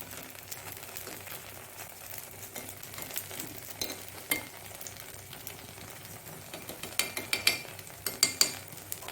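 Jowar paddu sizzle in ghee in an appe pan, a quiet continuous crackle with scattered sharper pops and clicks growing busier toward the end, close and faint with no talking.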